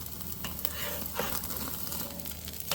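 Steak searing over hot coals while being flipped repeatedly, a steady close sizzle with soft scraping and clinks of handling.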